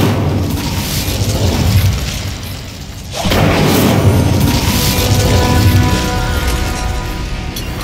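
An Incendio fire spell blast in the Hogwarts Legacy video game: a loud, roaring whoosh swells in after a brief dip and sustains as a broad, rumbling burst of flame and debris over the remaining seconds.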